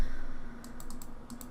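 A computer mouse clicks while snow is painted in Photoshop: a quick run of six or so light, dry clicks, some in close pairs, over a faint steady hum.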